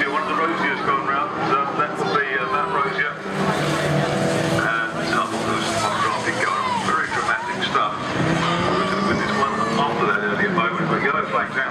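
Race cars, including a Vauxhall, in a 750 Motor Club Classic Stockhatch race on the Brands Hatch circuit: loud, continuous engine roar with shifting revs and tyre noise throughout, under a commentator's voice.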